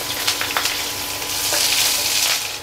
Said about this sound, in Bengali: আমি এবার কুচনো পেঁয়াজ দিয়ে হালকা করে ভেজে নেব।